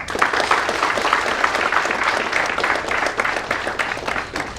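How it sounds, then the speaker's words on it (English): An audience claps to welcome Vishwas Mahajan, founder and CEO of Whizible, with steady, fairly loud applause that holds throughout and shows faint flutters of individual claps. "A round of applause, please."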